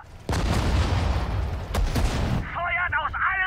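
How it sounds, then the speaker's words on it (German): Dense gunfire and booming artillery from the WWII strategy game Sudden Strike 4 roar loud and continuous for about two seconds, then a short German-language voice line follows. "Feuert aus allen Rohren!"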